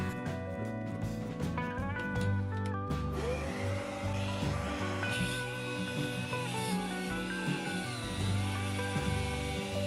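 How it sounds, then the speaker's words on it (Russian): An angle grinder fitted with a shroud made from sewer pipe runs steadily with a vacuum cleaner hooked to its port, giving a continuous close whine and motor drone with shifting tonal pitch and no talking. "посмотрите, как все изменится, если подключить к нашему патрубку пылесос"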